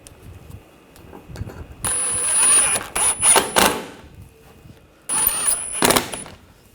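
Ratchet tightening screws on the cooling fan assembly of a Buick Encore, heard as two bursts of quick clicking with faint metallic rattles between quieter gaps.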